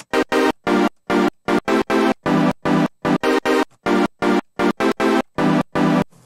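Bright, resampled synth chord stabs in happy hardcore style played in quick succession, each repeated at shifting pitches across the keyboard in a choppy, bouncy rhythm.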